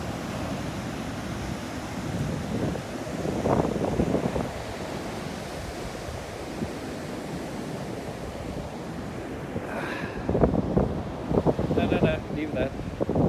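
Wind and surf at a beach: a steady, broad roar of waves with gusty wind buffeting the microphone, and brief livelier sounds near the end.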